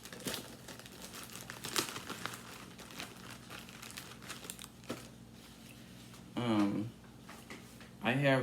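A paper-towel-like sheet crinkles and rustles in bursts as it is handled on an esthetician's table, close and fairly quiet, with a person speaking during the second half.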